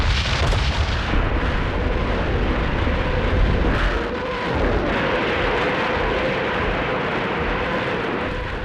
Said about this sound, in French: 3000 canons et orgues de Staline écrasent les lignes ennemies